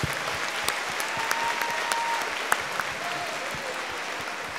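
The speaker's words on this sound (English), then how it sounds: "Let's give all of our sponsors a round of applause." An audience at a school district convocation claps for the event's sponsors, a dense, sustained round of applause from a large crowd filling the room evenly throughout.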